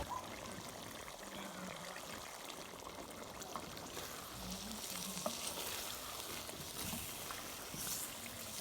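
Chicken with crushed black pepper, turmeric and other spices frying in a karahi, a steady soft sizzle running throughout with occasional stirring scrapes, no talking.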